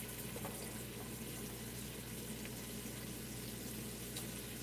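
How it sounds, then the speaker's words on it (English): Butter and onions sautéing in a soup pot give a steady, even sizzle with a watery, hissing texture throughout, with no one talking. "We have butter and then we have onions in the pot, just sauteing"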